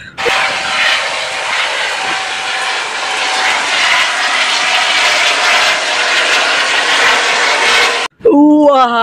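A steady whirring, buzzing motor drone like a toy helicopter runs loud and close without pause, then cuts off as a voice speaks briefly.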